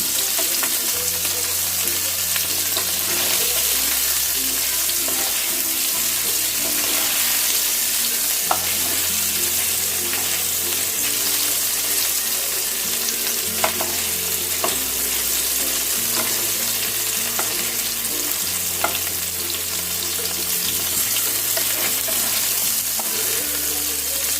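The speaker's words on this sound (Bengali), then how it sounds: "পনিরগুলোকে আমি গরম জলে দেব না, আমি হালকা করে ভেজে তুলে নেব" Paneer pieces lightly shallow-frying in a pan for palak paneer, a steady loud sizzle with occasional crackles and stirring scrapes throughout, no voices.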